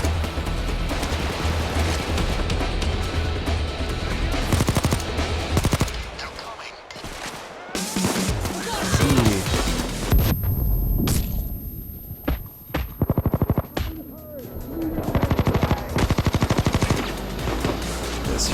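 Rapid bursts of video game gunfire from enemies shooting down from rooftops, loud and dense, with clustered volleys and sharp single shots broken by brief pauses.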